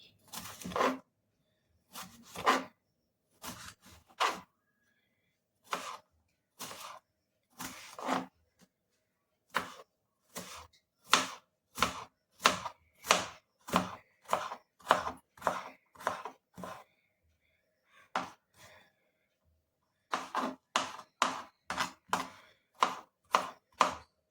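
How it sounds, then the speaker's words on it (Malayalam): A knife chops banana stem finely by hand on a board, brisk rhythmic runs of close, crisp cuts separated by short pauses, with no talking. "നല്ല പൊടി പോലെ അങ്ങ് അരിഞ്ഞെടുക്കുക പെണ്ടി"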